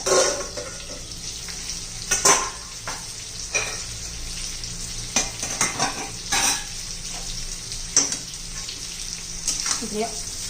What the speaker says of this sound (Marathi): मसाला पण तेलामध्ये चांगला एखादा मिनिट परतून घेऊ